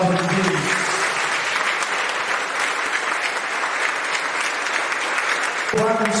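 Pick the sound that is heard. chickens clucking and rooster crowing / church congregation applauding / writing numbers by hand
church congregation applauding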